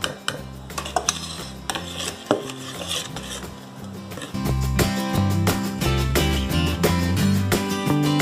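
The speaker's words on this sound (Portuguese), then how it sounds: "Uma batidinha de fuê pra soltar" A whisk clatters and scrapes against a bowl while stirring thick cookie dough, with rapid metallic knocks that grow busier and louder in the second half, backed by music.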